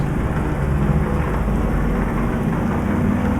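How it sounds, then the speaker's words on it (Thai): Rain and thunder in Euro Truck Simulator 2 while driving an Isuzu Giga truck, a loud steady downpour drumming with a deep continuous rumble underneath. "ฝนยังตกอยู่เลยว่ะ"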